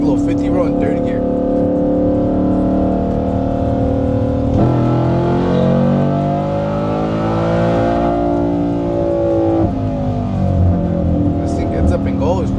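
A Ford F-150 pickup truck engine revs up and accelerates, its harmonic whine rising and shifting through gears, loud and close, continuous throughout.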